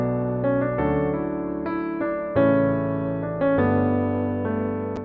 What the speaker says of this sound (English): So if we solo this and listen to the piano right here on its own,